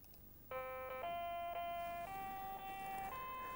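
An Acorn A3000 computer plays the French national anthem as a plain electronic melody of steady, beeping tones, each note held briefly and stepping up in pitch, clear and alone over faint background hiss.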